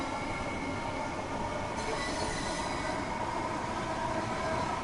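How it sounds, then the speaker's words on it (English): A British third-rail electric train in Train Sim World 5 runs with a steady, even rumble and hum of wheels on track, plus a brief higher whine partway through, and no voices. "It's another third rail train."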